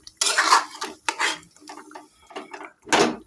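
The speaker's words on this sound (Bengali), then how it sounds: "এটাকে আরও ভালো করে নেড়ে দিচ্ছি।" Lemon chicken stirred in a pan with a spoon gives several bursts of scraping and clinking at irregular intervals, close and fairly clear, with short pauses between strokes.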